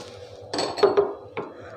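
Cashew powder stirred into sugar syrup in a pan for kaju katli, heard as a few close scraping clinks of a spoon against the metal pan over a low background hum.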